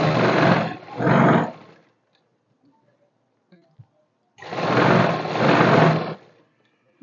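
A sewing machine stitches straight pants in two loud bursts of whirring, one short double run, then a pause with faint clicks, then a longer run.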